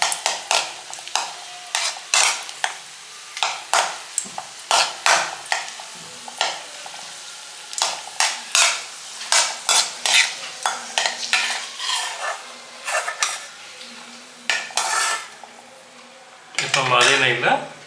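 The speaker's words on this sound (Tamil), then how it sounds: "அதே நெய்யில் கொஞ்சம் உலர் திராட்சையும் ஃப்ரை பண்ணிக்கலாம்." Raisins fry in ghee with a soft, continuous sizzle as a spoon stirs them, giving many quick metallic taps and scrapes against the pan over a long, busy stretch, heard up close.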